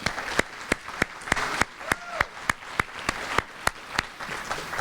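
An audience claps at a banquet in steady, moderate applause. Sharp individual claps stand out near the listener over a distant crowd wash, and the applause holds even throughout.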